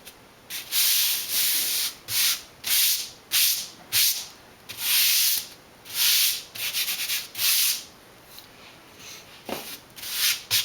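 Rhythmic sanding strokes rub down a ridge on the bottom of a foam wing core for a composite model plane, close and repeated in bursts of roughly half a second with brief gaps between passes.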